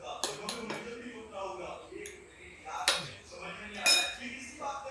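A spoon clinks against a pot while home-made butter is stirred into cooked sweet corn, a few sharp metallic taps and scrapes close by, with someone talking over them.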